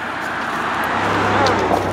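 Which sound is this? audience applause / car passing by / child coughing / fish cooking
car passing by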